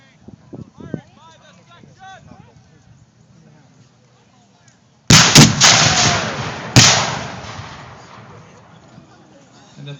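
Gunfire opens a Civil War reenactment battle as two loud, sharp blasts crack out a couple of seconds apart and leave a long rumbling echo, after quieter outdoor murmur and hoof-like clatter.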